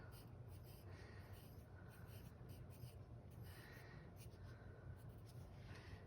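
A pen or marker writes a name onto a paper drawing of Van Gogh-style sunflowers in a vase, a faint steady scratching that runs through the whole stretch with no talking.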